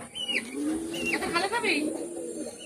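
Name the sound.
Pakistani master bloodline pigeon cooing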